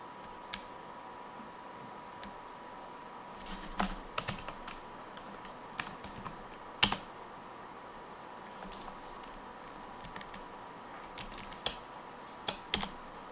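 Typing on a computer keyboard: quiet, irregular key clicks come in scattered bursts, with a few sharper taps standing out over a faint steady hum.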